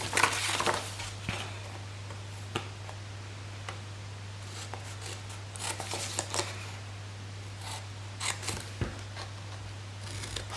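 Scissors snip through gift bag paper along score lines, with a burst of cuts at the start and then scattered crisp single and double snips over a steady low hum, no talking.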